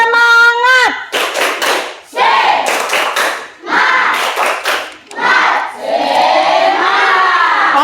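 A classroom of students doing a rhythmic spirit clap, several loud bursts of coordinated clapping and shouting in quick succession, with a teacher's voice leading at the start.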